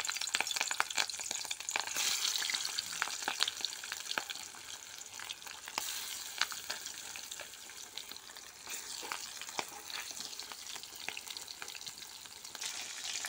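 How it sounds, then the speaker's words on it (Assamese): Turmeric- and salt-rubbed fish pieces fry in oil in a pan for an Assamese sour fish curry with elephant apple. The crackling sizzle stays constant and fairly faint, with small pops throughout and no talking. "মাছখিনি সুন্দৰকৈ ফ্ৰাই হৈ আছে"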